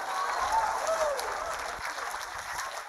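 Church congregation applauding in praise during a sermon, a sustained wash of clapping at moderate level with faint cheering voices mixed in throughout.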